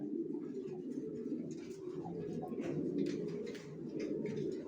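Racing pigeons coo steadily throughout, low throaty calls overlapping in a continuous murmur with faint chirps above.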